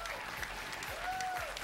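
Steady applause from a school sports event crowd at a Jefferson versus Westmoor gathering, a continuous wash of clapping with a faint tone drifting through it.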